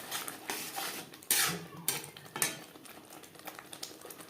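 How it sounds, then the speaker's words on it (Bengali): Spices and ground coriander being worked into onions in a pan for a fish curry, close scraping and clattering of a metal spoon with a faint sizzle underneath, in quick uneven strokes. "পেঁয়াজের সাথে মশলা বেশ ভালো করে মিক্স করে দেবো।"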